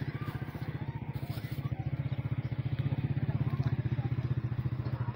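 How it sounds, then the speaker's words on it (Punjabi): A motorcycle engine putters steadily and close by on a canal bank where friends gather for iftar, with a fast, even pulsing beat and light clatter around it. "ਇੱਥੇ ਦੇਖੋ ਜੀ ਗੱਡੀਆਂ ਮੋਟਰਸਾਈਕਲ ਕਿਤਨੇ ਨੇ ਨਹਿਰ ਦੇ ਕਿਨਾਰੇ"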